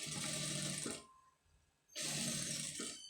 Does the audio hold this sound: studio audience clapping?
no